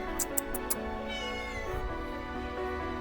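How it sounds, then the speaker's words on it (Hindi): A cat meows in short repeated calls on a residential waterfront terrace, heard over a steady background of ambient noise and other sounds, moderately close. "बिल्ली भी बैठ के वहाँ पे।"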